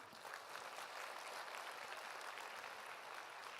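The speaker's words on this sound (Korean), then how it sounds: "큰 박수 부탁드려요." Faint, steady applause from an audience at a talk, a soft continuous wash of clapping heard from a distance with no voices over it.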